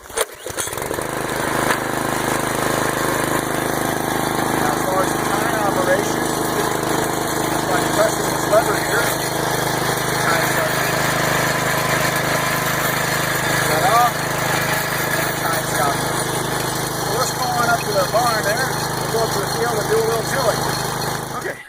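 Small walk-behind garden tiller engine running steadily at idle in a garden plot, a constant mid-range drone lasting throughout, close and moderately loud, with a person talking over it.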